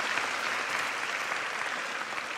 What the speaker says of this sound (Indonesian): berikan tepuk tangan bagi Tuhan Yesus Kristus